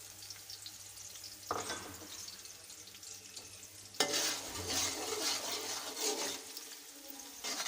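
Finely chopped garlic sizzles and crackles in a hot pan, with a soft scrape partway through, then a louder, steady frying hiss.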